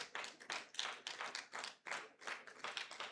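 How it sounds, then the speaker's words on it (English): Audience at a regional youth debate quarter-final claps in a rhythmic, pulsing pattern, roughly two to three bursts per second, fairly quiet and without talk. "Please keep the applause going. Make it louder, more resounding as he comes to the stage."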